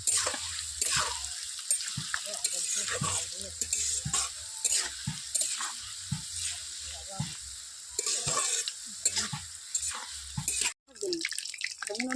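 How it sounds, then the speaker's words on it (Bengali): Peanuts tossed into potatoes frying in oil in a pan, a steady close sizzle with repeated stirring scrapes and clicks throughout, briefly cut near the end. "ভাজা ভাজা হয়ে এসেছে তো এবার বাদামটা দিয়ে দিলাম"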